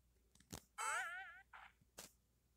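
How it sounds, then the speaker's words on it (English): A cartoonish spring-jump boing from a video game, a loud wobbling, bending tone lasting about half a second, framed by sharp clicks and a short blip. "Come to think of it, those boingos are kind of loud."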